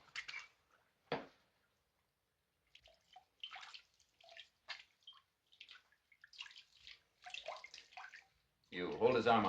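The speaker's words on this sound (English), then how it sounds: "Pour some of that on my hands." Rum poured onto hands, heard as faint scattered drips and trickles over several seconds, then a louder splashing pour at the end.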